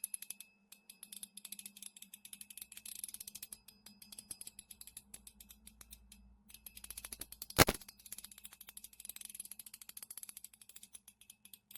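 A fidget spinner whose mechanical rotor arm carries springs and beads clicks rapidly as it spins, giving a crisp ratcheting tick train with a brief louder snap midway, alone and fairly quiet.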